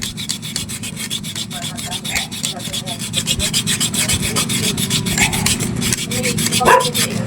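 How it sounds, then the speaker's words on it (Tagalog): Sandpaper rubs against the worn bushing of a 16-inch Asahi desk fan in quick, steady back-and-forth strokes, a close rasping scrape that stays even and unbroken throughout. "Pero hindi naman siya ganun kalalim kaya kayang-kaya pang lihain."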